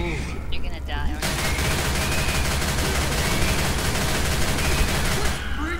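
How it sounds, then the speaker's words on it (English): Dense, continuous gunfire rattles through a frantic Left 4 Dead 2 round, loud and sustained for several seconds, with voices talking underneath. "Quit freaking shooting me!"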